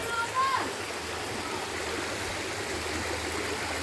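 A mountain waterfall and stream flowing on a mountainside, a continuous rushing, splashing wash of water close by and fairly loud, with a brief voice at the start.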